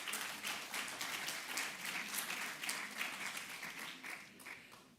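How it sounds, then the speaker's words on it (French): Audience applause at a public hearing on perpetrators of sexual violence, a steady, even wash of many hands clapping, moderately distant and without talk. "je crois qu'on peut les applaudir pour le travail qu'ils ont fait"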